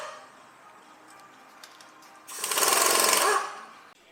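Bolts coming off a flywheel in a clutch assembly, likely an impact or air tool: a loud broadband burst of about a second and a quarter after quieter clicks and shop noise.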